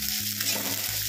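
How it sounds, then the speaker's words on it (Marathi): Chopped onion frying in a little oil in a pan, a continuous close sizzle with brief stirring scrapes, no talking. "थोडंसं तेल घालूया याच्यामध्ये, कांदा छान भाजून घेऊया"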